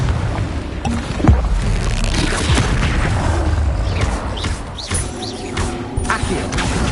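Booming blasts and crashes from the Confringo explosion spell in the game Hogwarts Legacy, thudding impacts amid busy combat noise, steady and fairly loud.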